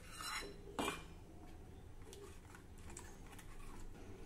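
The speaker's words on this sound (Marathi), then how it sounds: "आता मध्यम आचेवर आपल्याला हे छान असं ढवळत राहायचं आहे" Spinach vegetable curry is stirred in a pan over medium heat, with a couple of metal spoon clinks against the pan and a soft, low scraping continuing quietly afterward.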